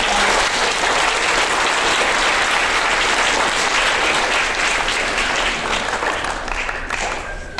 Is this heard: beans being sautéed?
no